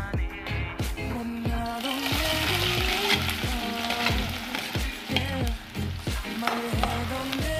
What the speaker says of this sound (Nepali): त्यो प्याजलाई एकैछिन चलाएर पकाउँछु।